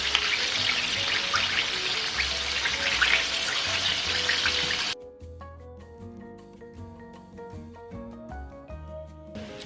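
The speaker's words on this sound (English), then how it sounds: "Oil is ready for the plantain. Just place your plantains in there." Plantains drop into hot oil with a loud, dense sizzle and crackle that abruptly cuts off halfway, giving way to soft background music.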